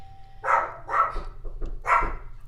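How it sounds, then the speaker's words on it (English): A dog barks three times indoors at a house, sharp medium-loud barks with short pauses between them, heard fairly close with no talking over them. "She's just going to keep barking, I think, until my husband comes"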